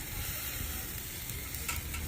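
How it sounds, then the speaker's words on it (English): Ribeye steak sizzling on an Ignik Firecan portable propane grill, a steady, close, dense crackling hiss with no voices. "Ooh, that's sizzle."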